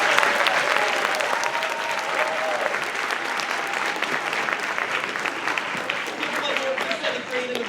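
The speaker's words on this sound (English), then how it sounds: "how about another round of applause for the intellectual?" Sustained audience applause at a school percussion concert night, loud and dense from a large crowd throughout, with a few voices and cheers mixed into the clapping.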